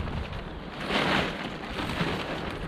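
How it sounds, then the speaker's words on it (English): Wind gusting through a garden on a cold day, a steady broadband rush with a stronger gust near the middle, buffeting close to the microphone with no voices. "it's pretty windy"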